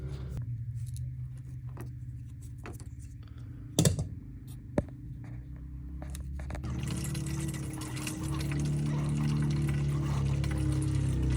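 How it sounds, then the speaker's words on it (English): Engine coolant from a 2020 Jeep Grand Cherokee drains into a gallon jug, starting as a motor-like hum with a couple of sharp clicks, then turning into a steady close splashing pour that fills the last several seconds. "we're gonna drain our coolant"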